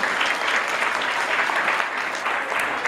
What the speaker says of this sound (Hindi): एक बार संदीप भाई के लिए जोरदार तालियां बजाएं